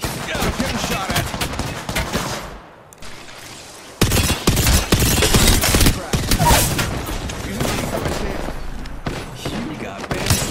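Rapid gunfire in the battle-royale shooter Apex Legends: dense, continuous bursts of automatic fire and sharp shots crackle nearly throughout, with a brief lull before the shooting swells again, loud and close, with voices now and then.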